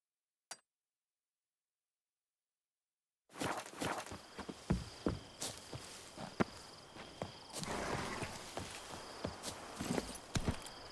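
A horse in The Witcher 3 walks along with rhythmic hoof clip-clops and faint tack jingles, starting after a stretch of near silence with one brief click at the start.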